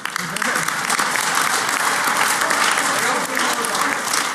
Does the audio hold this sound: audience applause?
yes